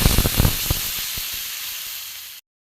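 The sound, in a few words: water poured into hot pan of potol and soybean curry, sizzling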